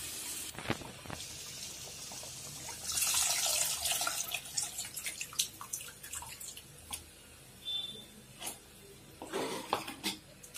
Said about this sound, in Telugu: ఇప్పుడు చింతపండు పులుసు పోసుకుందాం.